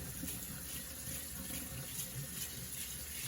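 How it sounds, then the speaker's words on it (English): Soaked rice being rinsed under a running kitchen tap, a faint continuous splashing and gushing of water with no talk. "drain and rinse it."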